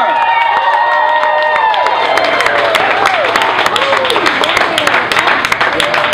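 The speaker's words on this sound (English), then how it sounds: "Clap your hands, make some noise." Crowd at a car giveaway event clapping and cheering, a dense, steady roar of applause and shouts filling the whole stretch, with voices and whistles mixed in.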